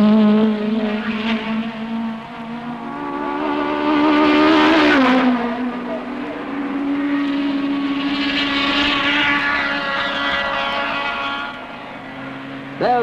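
Saloon racing cars from the 1968 British championship roar past on track, a loud engine note rising to a close pass mid-clip, then a sustained high-revving drone as more cars follow through traffic.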